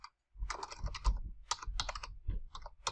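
Rapid, irregular keystrokes on a computer keyboard while code is typed for a Shiny app's Bootstrap theme. The clicks are close and clear, with a brief pause near the start, and no one speaks.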